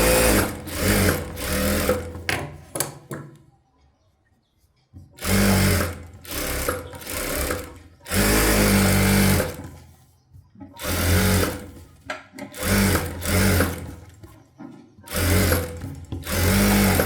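A sewing machine stitches blouse lining in several loud, close bursts of rapid stitching, separated by brief pauses.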